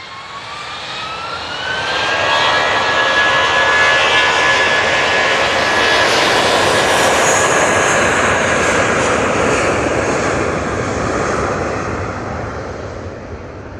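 A jet airliner bound for Frankfurt accelerates down the runway on its takeoff roll at Manchester Airport, a loud, sustained engine roar with a rising whine that swells in, holds steady, then slowly fades.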